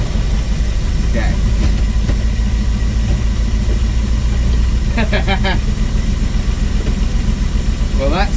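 A vintage car with a transaxle transmission, its grease freshly cleaned out, fires up and settles into a loud, steady idle, with brief squeaky bursts over the running engine and no talking.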